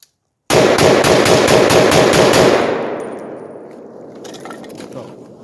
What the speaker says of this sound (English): we're gonna rapid fire this. You guys can watch the muzzle over there, see how much of a rise we get on this 308